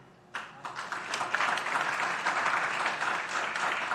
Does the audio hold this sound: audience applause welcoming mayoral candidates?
yes